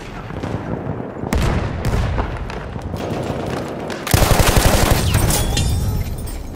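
Machine gun fire in the World War I shooter Battlefield 1, rapid loud bursts with heavy booms, turning into a sustained fast rattling stream near the end.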